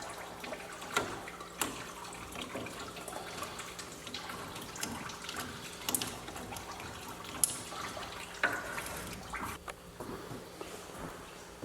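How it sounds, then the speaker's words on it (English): Coolant draining from the radiator of a 1967 Mustang, a slow, irregular drip with soft splashes and faint trickling, quiet and close, with no voices. "the coolant is just about out of the radiator. It's kind of getting to a really slow drip."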